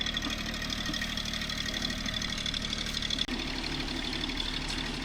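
Tractor engine idling with a steady, rhythmic low chug, close and constant, broken only by a brief click midway.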